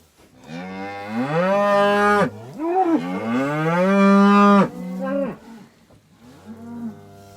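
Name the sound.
calf mooing on a farm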